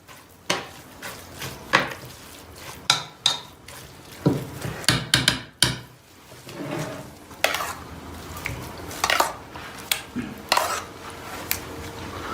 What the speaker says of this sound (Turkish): 2 yemek kaşığı peşemalı ıspanağımıza döküyoruz. Şöyle bir karıştırıyoruz.